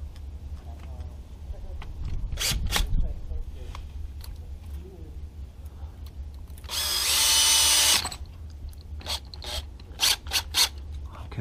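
Tightening intercooler hose clamps on a 2016 Golf R MK7 during an install, with short ratcheting clicks and a burst of whirring from a power tool, set against a low background hum.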